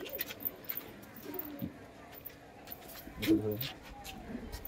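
Pure-bloodline pigeons coo in short low bursts, one clearer call near the end, under steady background noise with people talking nearby.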